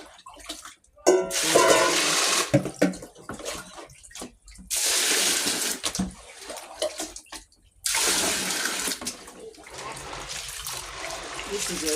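Water sloshes and pours while pap (maize meal) gets its second wash, with bursts of splashing and draining that stop and start in separate pulses, close and fairly loud.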